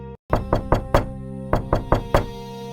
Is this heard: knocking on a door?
yes